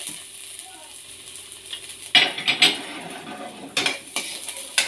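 Onion and garlic sauté in a pan with a soft steady sizzle, broken by several sharp clanks and scrapes of a utensil against the metal, close and fairly loud.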